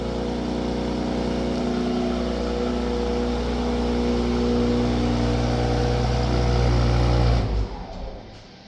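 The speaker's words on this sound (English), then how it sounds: "cold start sound test" Remote cold start of a 2026 BMW M340i xDrive with the B58 engine: a loud, steady high idle drones close by for several seconds and then cuts off abruptly as the engine shuts down.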